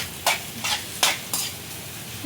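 Cumin and mustard seeds sizzle in hot oil for an Indian tadka, with four or five quick stirring scrapes cutting through the steady close crackle.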